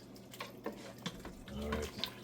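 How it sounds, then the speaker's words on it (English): Rice and gungo peas in coconut milk bubbling at a boil while being stirred, faint liquid sloshes and soft clinks, with speech over it. "it's already come to a boil, so we're stirring it"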